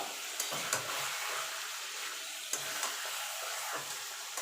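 Chicken meat frying in a pan, a quiet steady sizzle with a few soft clicks and scrapes from stirring, fairly faint throughout.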